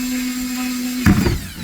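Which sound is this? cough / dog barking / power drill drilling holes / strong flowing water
power drill drilling holes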